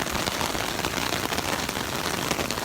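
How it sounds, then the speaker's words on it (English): Steady rain falling at a beach in Miramar Beach, Florida, a dense continuous hiss of drops on surfaces, even and close with no pauses. "When is the rain gonna end?"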